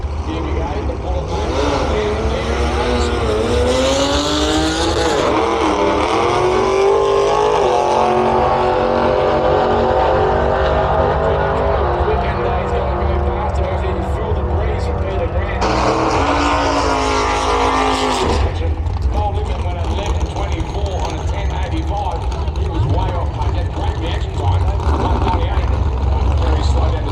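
Hot rod drag race machines roar at full throttle, a loud continuous engine howl with rising and shifting pitch and a sharp change midway, heard over a track setting without clear speech.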